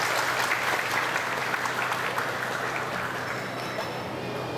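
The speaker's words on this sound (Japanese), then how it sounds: "どうぞ皆様拍手でお迎えくださいませ。" A hall audience applauds steadily to welcome the Shimogyo ward chief at the closing ceremony of the Umekoji Steam Locomotive Museum in Kyoto, a dense, even wash of many hands that holds at full strength throughout.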